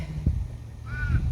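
A crow caws once or twice at a distance outdoors, a faint harsh call rising above steady wind and low rumbling background noise.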